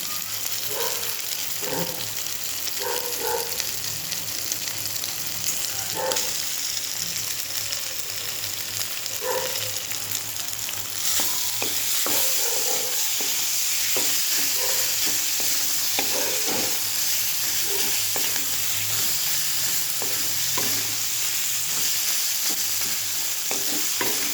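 Onions sizzling and frying in oil in a pan, a steady close hiss with regular scraping stirs and clinks of a utensil against the pan, no voices.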